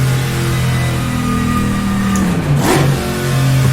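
Race car engine in the rFactor2 sim racing game at Dundrod, revving hard and climbing through the gears with a brief dip at a shift, loud and steady throughout.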